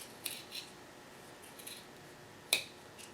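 Scissors snip threads on a dress being sewn, a few sharp, quiet clicks spaced apart with one crisper cut near the end, in a hushed room without talk.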